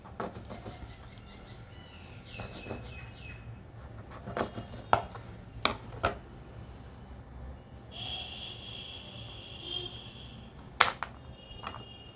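Knife cutting peach for a fruit salad: scattered sharp chops and taps against a board, close and moderately loud, with quiet gaps between them and faint bird chirps in the background.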